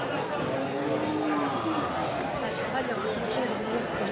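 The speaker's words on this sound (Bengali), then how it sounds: "প্রচুর গরু উঠেছে আজকে বাজারে।" Cattle low amid a crowded livestock market at Chenga in Habiganj district, where bulls are traded, the moos rising over a dense din of people talking and moving nearby.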